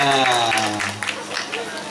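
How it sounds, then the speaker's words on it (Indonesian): Applause for team D at an Islamic Quran-translation quiz competition. Crowd clapping fills the clip, with a voice speaking over the start and the clapping continuing steadily afterward. "tepuk tangan untuk anak kita regu D"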